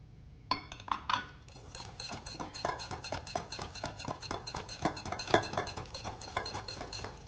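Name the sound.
mixing egg into cake batter in a bowl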